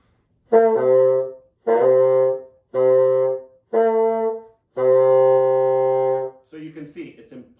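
Five sustained bassoon notes played without tonguing, each starting softly without a sharp attack, separated by short gaps, the last held longer; a brief voice follows at the end.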